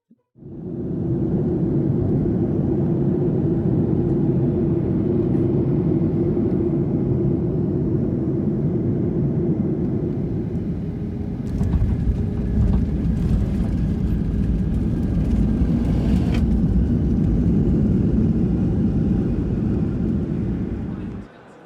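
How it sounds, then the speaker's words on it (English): Another airplane flying past, recorded from inside a passenger plane in flight, heard as a steady loud engine roar and cabin rumble throughout, with a slight rise in hiss near the middle. "While flying, I also spotted another plane, which I thought was kind of neat, so I just recorded it"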